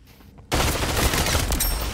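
Sustained loud bursts of automatic gunfire from a gun in a multiplayer shooter video game, starting abruptly after a short quiet moment and continuing as a dense, rapid stream.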